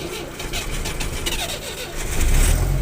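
A car engine cranks on its starter without catching, a repetitive mechanical churning close to the microphone that swells in the last moment.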